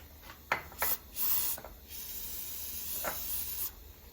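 Short hissing bursts of spray grease hit the rear coil spring top mount of a BMW E46 325i estate: two quick puffs, a longer blast, then a softer sustained spray, close up with no talking.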